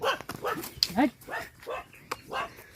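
A dog yips, barks and whimpers in a rapid series of short, uneven calls close by, with human voices mixed in.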